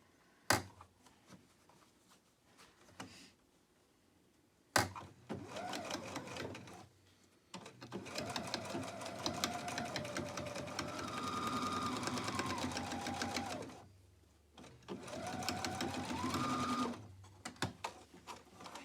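A sewing machine stitches fabric for a surgical cap in several bursts of rapid, even mechanical chatter, separated by short pauses and a couple of sharp clicks, heard up close.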